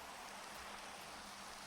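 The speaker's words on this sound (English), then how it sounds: "Endermen love the rain" Steady, even hiss of Minecraft rain falling in-game, a dense broadband patter with no talk over it, quiet and constant throughout.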